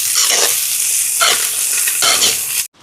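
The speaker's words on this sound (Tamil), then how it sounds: "இதோட ரம்பையில் கருவேப்பிலை. இதெல்லாம் நல்லா வதங்கட்டும்." Curry leaves and pandan leaf sauté in hot oil in a pan, giving a loud, steady sizzle and crackle throughout, with stirring scrapes around the one-second and two-second marks before the sound cuts off abruptly.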